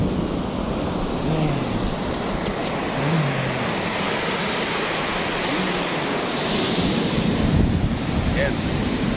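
Ocean surf washing steadily over a constant roar of wind buffeting the microphone, with faint rumbling undertones and no clear breaks across the whole stretch.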